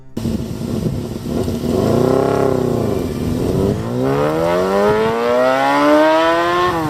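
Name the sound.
Honda CBR250RR four-cylinder motorcycle revving high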